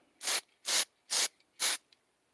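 Spray paint hissing onto clawfoot tub shower curtain rings in four even, close bursts, each about a quarter second long, separated by short quiet pauses.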